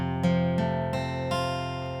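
An F barre chord strummed on guitar, four firm strums a few tenths of a second apart, each ringing full and clear under the next, close and fairly quiet with no voice.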